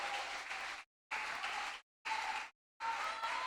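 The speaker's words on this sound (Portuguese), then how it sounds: "Aplauda o Senhor" A church congregation applauds during a national missions service. The clapping comes in several short bursts separated by abrupt silent gaps, with a faint tonal hum beneath it.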